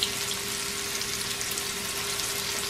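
Morel mushrooms frying in a skillet give off a steady, close sizzle with dense crackling, unbroken throughout and heard alone.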